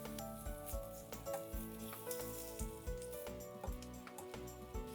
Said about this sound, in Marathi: मीडियम फ्लेम वरती पेस्ट आणि कांदा भाजून घेऊया.